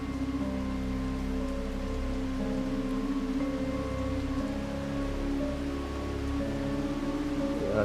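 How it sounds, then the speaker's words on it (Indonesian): Heavy rain pours down steadily and loudly in a dense, unbroken hiss, with a constant low hum underneath and no voices. "Hujan semakin deras,"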